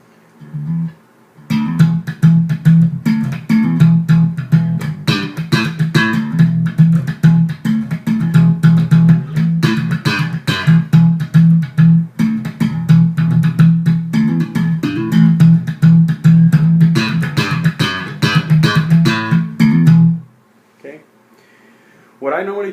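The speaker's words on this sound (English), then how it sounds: "If I play slap and pop this way, it'll sound a little like this." A Taino SCNT-6 electric bass played with a percussive slap-and-pop technique, busy rhythmic thumps and snapping plucks for about twenty seconds, then a brief quiet tail with soft handling noise.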